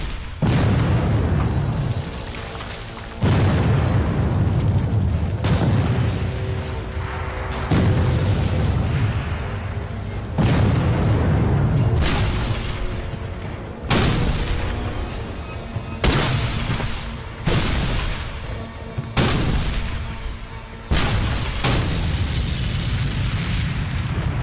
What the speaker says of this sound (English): It's the largest artillery barrage ever in the Western Hemisphere.